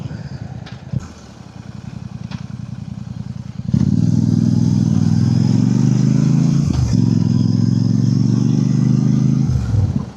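A Royal Enfield Super Meteor 650 or Hunter 350 motorcycle engine idles with a steady low rumble, then revs louder and holds a strong, throbbing drone for several seconds.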